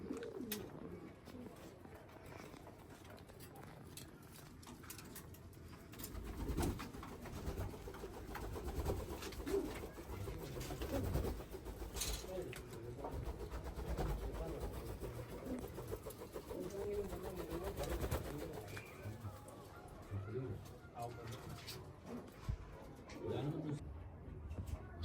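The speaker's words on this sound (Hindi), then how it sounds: "तो आइए जनाब लॉफ्ट का विज़िट करते हैं कि जावेद भाई के पास कौन कौन से कबूतर हैं।" Pigeons in a loft coo softly in low, rolling calls, several birds close by, with faint talking and shuffling in the background.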